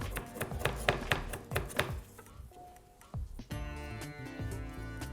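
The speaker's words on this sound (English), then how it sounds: "You don't want to over chop your coriander because it does bruise quite easily" A knife roughly chops a small handful of fresh coriander on a board, rapid close taps in an irregular run that slows and gives way to a softer steady background.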